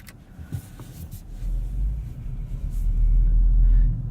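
A 2016 Audi S7 V8 in dynamic engine sound mode builds a deep, swelling rumble from inside the cabin, growing louder over a few seconds after a few soft clicks.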